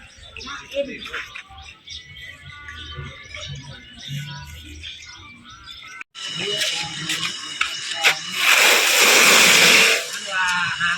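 Water switched on at a rural home site being cleared for a new driveway entrance, a sudden loud rushing, spraying wash that bursts in midway and swells, following quieter stretches with people talking nearby.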